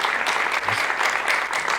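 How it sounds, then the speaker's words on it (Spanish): Audience applause at a Spanish school orientation talk on the arts, a dense steady wash of many hands clapping throughout, fairly loud and without any voices on top. "Un aplauso."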